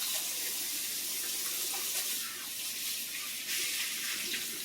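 Running tap water pours steadily into a sink as hands are rinsed under it, a close, continuous hissing splash with small shifts in texture as the flow is broken.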